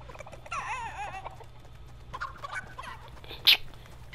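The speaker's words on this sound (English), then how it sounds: "Thank you, chicken, for leading me to the llama." A chicken in Fortnite clucks and warbles in a short burst, followed by a few fainter cackles and a brief sharp click against a low background hum.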